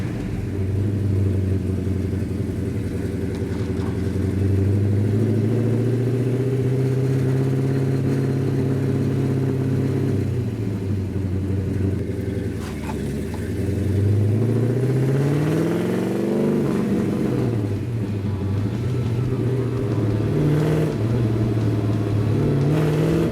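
A 1967 Hemi GTX convertible with a four-speed and 3.54 gears revs and accelerates up through the gears, its deep engine note rising and falling close by, loud and steady with no talk.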